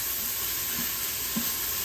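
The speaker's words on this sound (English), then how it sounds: "I can already hear it searing" Onions searing in an Instant Pot, a constant close hiss and sizzle with a couple of soft stirring knocks underneath, and no one talking.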